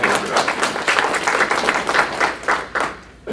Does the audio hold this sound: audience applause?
yes